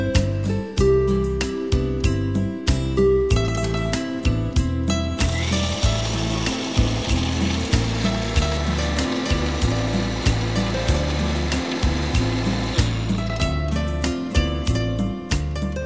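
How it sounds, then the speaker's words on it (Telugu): A kitchen mixer grinder blends beetroot chutney in loud, rhythmic pulses, a clattering whir that runs continuously through the middle and then switches back to short repeated bursts. "Mixie పట్టేస్తున్నాను direct."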